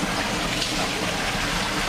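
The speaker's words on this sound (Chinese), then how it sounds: "那个水是那个山水流进来的，就好像瀑布一样的声音" Mountain spring water gushes into a house damaged by a landslide after torrential rain, a loud, steady roar like a waterfall.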